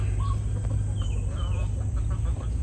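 Chickens clucking softly at a backyard garden in Central Florida, scattered low calls close by over steady outdoor ambience.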